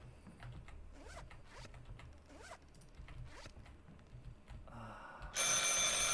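A telephone rings in the survival horror video game Bigfoot, repeating in short regular bursts over a low ambient background before a sudden loud burst of noise takes over near the end.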